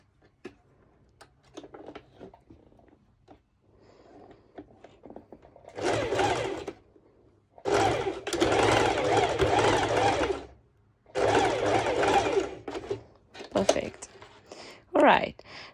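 A sewing machine joins the front and back pieces of a cowl neck dress at the shoulders. It runs in three loud bursts of fast stitching between quiet handling sounds.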